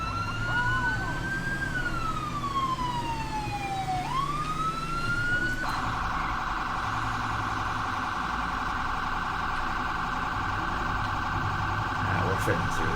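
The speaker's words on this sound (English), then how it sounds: "We don't want the sirens on too much because we are getting into night time." An emergency vehicle siren in the LSRD mod of a driving video game wails in long rising and falling sweeps, then switches to a fast, steady, piercing warble, loud and continuous over a low engine rumble.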